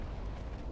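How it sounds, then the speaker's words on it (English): A naval gun salvo fires in the warship game Ultimate Admiral Dreadnoughts during a 1940 German campaign battle, heard as a short, deep, rumbling boom. "17 just sent out a salvo against the light cruiser"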